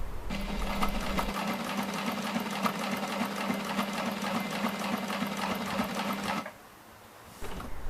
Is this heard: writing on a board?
no